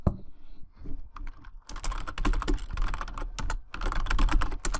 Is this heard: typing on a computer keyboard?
yes